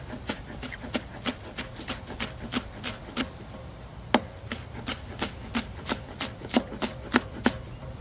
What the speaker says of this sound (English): I have some scallions here. I'm going to cut up, throw those in there